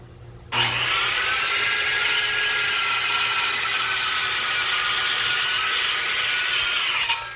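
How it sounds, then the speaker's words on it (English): A handsaw cuts through a length of extension wood, starting abruptly after a short pause and running as a steady, loud, continuous rasp of strokes for about seven seconds, close up and with no talking. "So let's see if I can cut this wood."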